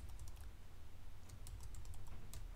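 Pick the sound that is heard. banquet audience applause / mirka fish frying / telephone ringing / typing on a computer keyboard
typing on a computer keyboard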